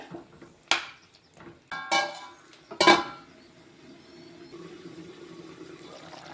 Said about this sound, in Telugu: ఒక రెండు పెద్ద టమాటాలు తీసుకున్నానండి అవి వేసేస్తున్నాను